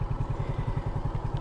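Many motorcycles at a convention center give off a steady low engine rumble with a rhythmic idling pulse and light clatter, with no talking.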